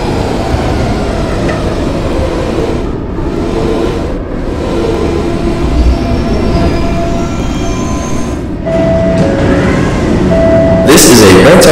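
A K subway train on the B line, a PST-2R, runs with a loud, continuous rumble and clatter. A voice announcement plays over it, and a sharp wheel squeal rises near the end.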